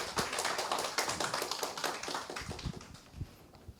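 Audience in a community meeting room applauds to welcome a cultural policy team leader from Geumcheon district office, a few seconds of dense, steady clapping with individual claps standing out near the end.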